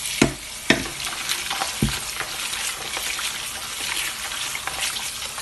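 Sorrel (hibiscus) leaves being rinsed in water: a few sharp splashes and knocks early on, then a steady wet swishing and trickling that runs unbroken to the end, with no talking.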